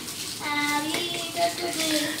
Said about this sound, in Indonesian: Jadi Pirbet, kalau nggak mau mandi, biasanya kita siram dulu pakai air begini.